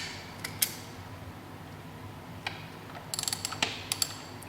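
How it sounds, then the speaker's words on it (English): A hand ratchet working loose the kickstand assembly bolts on a 2015-2017 Yamaha YZF-R1 sportbike, heard as scattered sharp clicks, then a quick run of close ratcheting ticks over a quiet workshop background. "Now we're going to break loose the bolts that hold on the kickstand assembly."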